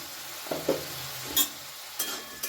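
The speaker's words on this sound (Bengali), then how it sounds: "গ্যাসের ফ্লেমটাকে মিডিয়ামে রেখে এবার এটা ভালো করে আমি একটু নেড়ে নিলাম" A pan of Amud fish jhal chorchori over a medium gas flame is stirred, with a few soft scrapes and clicks of the spoon over a faint steady sizzle, close by.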